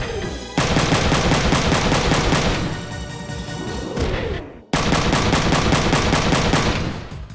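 Sustained heavy gunfire from mech battles in the Front Mission 3 video game, dense rapid bursts that stay loud throughout, broken by a brief gap before the barrage resumes.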